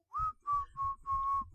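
A person whistles while breathing inward, producing four short, breathy tonal notes in quick succession at close range, each slightly wavering in pitch.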